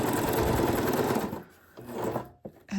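Sewing machine stitching junk journal tags, a steady fast mechanical chatter that runs for over a second, pauses, then resumes in a shorter burst before stopping.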